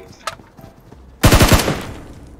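Gunfire in the video game PUBG Mobile: after a few faint clicks and light knocks, a loud, rapid burst of automatic shots rattles out and then tails off.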